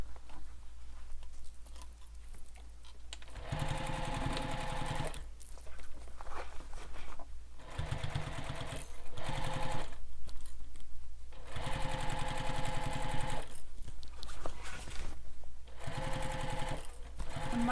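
A sewing machine runs in repeated close, loud bursts as it bastes the layers of a backpack, with short pauses between the stitching runs.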